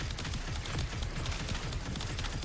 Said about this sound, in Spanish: Disparo primario normal.